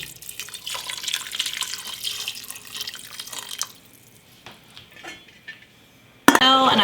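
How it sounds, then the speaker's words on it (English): Water pours into a soup pot of vegetables in a kitchen, a steady splashing trickle that thins out to a few drips, followed by a sudden louder clatter of metal at the end. "So let's put a little more water in"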